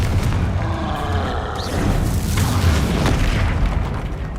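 Booming magical explosions from the Bombarda and Confringo spells in the video game Hogwarts Legacy, a dense continuous roar of blasts and rumbling bursts at steady high loudness, with no voices.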